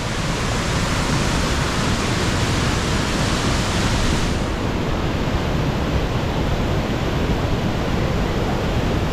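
Rushing water of a waterfall along a trail at Triberg, a loud, dense, unbroken roar close by with no voices over it.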